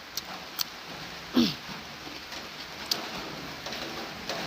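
Steady rain hisses across a surface, with a few scattered louder drips and taps standing out against the soft, constant wash.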